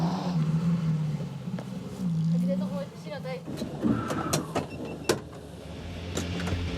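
A Suzuki SJ 4x4 grinds over boulders at a club off-road challenge, its engine droning and surging with low revs, clunks and knocks as it climbs, with a commentator talking over it.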